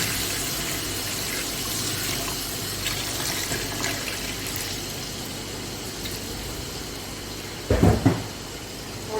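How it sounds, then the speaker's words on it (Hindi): Water poured into a pot of meat for namkeen gosht, a salted meat curry, making a steady hissing splash that swells into a brief, louder gush near the end. "और अब मैं इसमें डालूँगी पानी"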